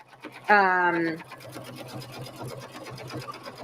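A computerized embroidery machine sews a satin stitch on a sweatshirt for reverse appliqué, with a steady, rapid mechanical stitching rhythm under a voice and a short electronic tone near the start.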